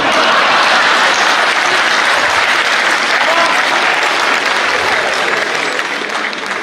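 Loud, sustained applause from the audience at a Hindi comedy poetry gathering, a dense wash of clapping that carries on evenly before easing slightly at the end.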